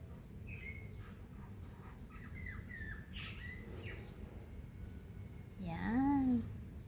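Birds squawk and chirp in short calls over a low background hum, ending in a loud, harsh squawk nearby.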